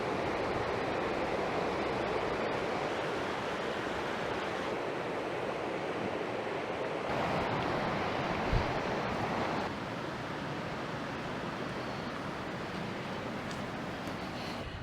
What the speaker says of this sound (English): The Aasleagh Falls are on the Erith River. They're not very high, they've got a bit of power behind them.